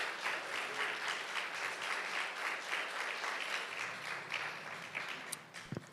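A church congregation at a couples' gathering breaks into steady applause, a dense wash of clapping that carries on for several seconds and then fades toward the end.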